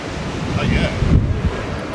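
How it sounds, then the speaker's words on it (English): Strong wind buffets the microphone on a beach promenade in Benidorm in winter, a steady loud roar with gusts and the wash of ocean surf underneath. "It is quite windy out here."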